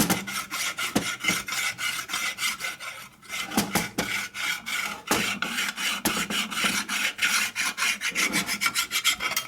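A metal file rasps against a Harley shovelhead engine case, a close rhythmic rubbing of repeated strokes that continues steadily with a short pause near the middle, with no talking.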